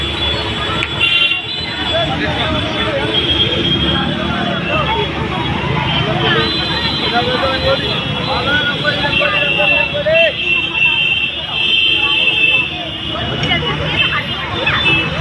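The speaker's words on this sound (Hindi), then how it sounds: "भाई बहुत ज़्यादा शोर और ट्रैफिक" Crowded local market on Ansari Road during the Diwali season, a constant din of traffic, horns and crowd babble all around, with people talking nearby throughout.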